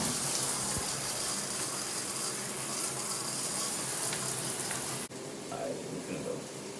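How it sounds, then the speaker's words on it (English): A shower runs steadily in a bathroom, the water hissing loud and unbroken, then the sound changes abruptly as the flow shifts and continues more softly. "we finna hop in the shower"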